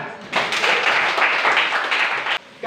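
Students in a classroom applaud, a short, close burst of brisk clapping that starts abruptly, holds steady for about two seconds and then stops suddenly.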